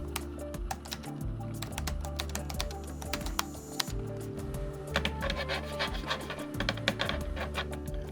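Typing on the keyboard of a Dell Inspiron 8100 laptop, with hard plastic keys: a dense, close run of rapid clicks and clacks continuing steadily throughout.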